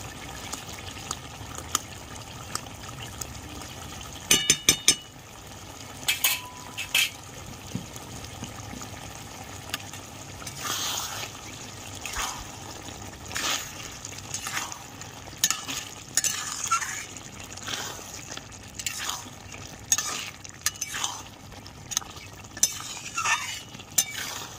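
Bottle gourd and bitter gourd shukto fries in a spoonful of ghee: a continuous low sizzle broken by frequent scraping stirs and clatters of a spoon against the pan, close and moderately loud.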